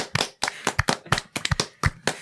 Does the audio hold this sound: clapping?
yes